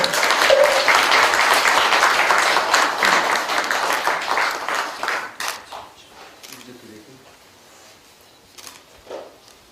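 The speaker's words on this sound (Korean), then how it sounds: "큰 박수 부탁드리겠습니다" A crowd claps loudly in sustained applause at a Korean Buddhist Taego Order ordination rank ceremony, gradually thinning and fading out, leaving a few scattered claps and quiet room noise.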